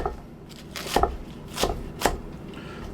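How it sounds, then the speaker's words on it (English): A knife dices smoked chicken on a cutting board for a stew, producing four or five dull, soft chops at a slow, uneven pace, close and fairly loud. "Keep dicing it up."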